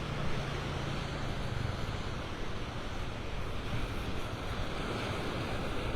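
Ocean surf washing onto the beach at Clam Pass Park in North Naples, Florida, a continuous broad rush of waves mixed with wind buffeting the microphone, no talking.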